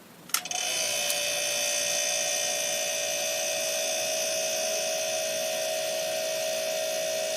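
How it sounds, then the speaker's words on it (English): A Summerset outdoor refrigerator starts with a click, then its pump settles into a steady, even electrical hum with a bright whine that runs unbroken and fairly close, with no speech. "You'll hear the pump running normally."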